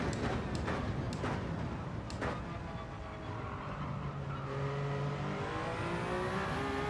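A race car in Gran Turismo at Daytona, the engine roaring loud and close as it revs, drops off under braking for turn 1 with a falling engine note, then builds again.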